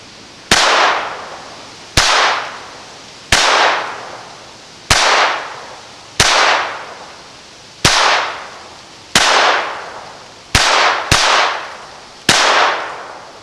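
A Taurus TX22 .22 pistol firing CCI rounds: about ten sharp, loud cracks spaced roughly a second and a half apart, one quick pair near the end, each trailing off in an outdoor echo.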